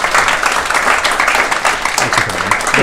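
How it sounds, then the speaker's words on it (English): Audience applause for a guest electrician at a training Q&A, a dense burst of clapping from a crowd lasting a few seconds. "So give Nick another round of applause."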